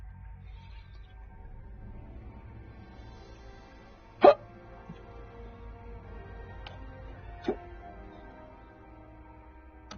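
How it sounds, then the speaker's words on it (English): Hiccups from a man eating ribs, two sharp, sudden hiccups several seconds apart, the first louder, over a quiet background hum with no talking. "Sorry, I got the hiccups."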